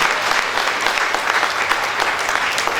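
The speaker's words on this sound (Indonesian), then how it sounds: "Ayo kita semua tepuk tangan lagi." Dense, steady clapping from the congregation at a wedding ceremony, moderately loud and sustained without pause, with no speech over it.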